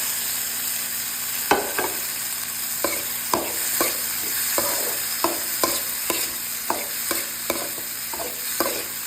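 Broccoli and corn stir-fried with onion and oyster sauce sizzle steadily in a pan while a utensil scrapes and taps in a regular rhythm, with no talking.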